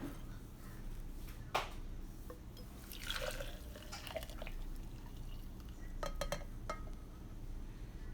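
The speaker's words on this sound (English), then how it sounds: "I'm going to pour it into my bubble cup, my little bubble insulated thermal." A thick smoothie pours into an insulated bubble thermal cup, heard as soft, faint liquid glugs and splashes with a few sharper clinks, quiet and close with no talk.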